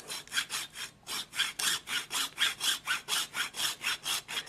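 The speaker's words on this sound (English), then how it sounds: "Now cut this piece in half again with the hacksaw." Hacksaw cutting a piece in half in a home workshop, a steady run of about eighteen close, rasping back-and-forth strokes with a brief pause near the start, with no talking.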